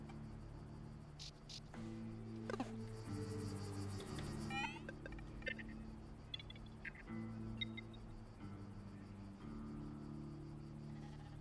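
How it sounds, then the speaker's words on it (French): Frogs croak in the video game Caravan SandWitch, a faint, low, drawn-out series of calls layered over a steady ambient background with a few light clicks. "Une grenouille. Des grenouilles."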